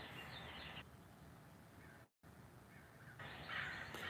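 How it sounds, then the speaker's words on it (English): Finches call outside a window in faint, distant, scattered chatter that drops out briefly midway and then resumes. "There's a lot of birds right now."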